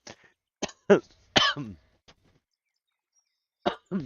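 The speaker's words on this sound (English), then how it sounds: "Sorry, I didn't mean to cough." Several short coughs and throat-clearing sounds close by, scattered bursts with silent gaps between, then two more coughs at the end.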